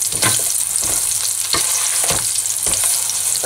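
Onion sizzles loudly in oil in the frying pan for salt and chilli squid, a steady close hiss broken by regular stirring scrapes, no voices.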